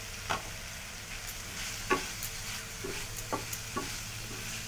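Vegetables in a pan for rice paneer stirred and fried, soft sizzling under several distinct scraping strokes of a spoon at irregular intervals, close and quiet.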